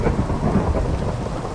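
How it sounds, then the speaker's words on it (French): A Minecraft thunderstorm rumbles with deep rolling thunder over steady pouring rain, loud and continuous with no talking. "il y a un orage qui s'éclate sur mon machin là"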